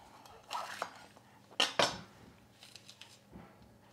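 A knife cutting a bell pepper into strips on a board, heard as a few faint, close knocks and crisp slicing sounds, with one louder pair of cuts in the middle, and no talking.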